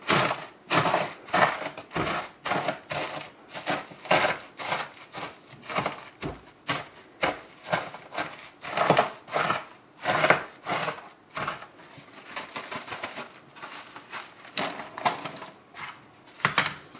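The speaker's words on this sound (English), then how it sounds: "Well, I'm going to crush a few more pork rinds" Pork rinds crushed inside a Ziploc bag, a long series of close, crackly crunching bursts in an uneven rhythm, each sharp press followed by brief pauses, with no talking.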